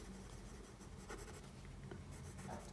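Pen strokes scratch steadily across paper while coloring in part of an eye in an emoji drawing, a faint continuous scribbling close up with no talk.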